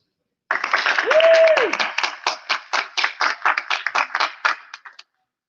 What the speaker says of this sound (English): Please, guys, give a warm round of applause for Gilly Writes Comics.